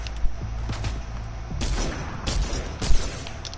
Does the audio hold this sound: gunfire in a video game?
yes